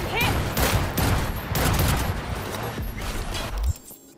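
Heavy gunfire in the video game Cyberpunk 2077: Phantom Liberty, a loud, dense barrage of rapid shots and impacts running continuously before cutting off abruptly near the end, with a voice faintly underneath.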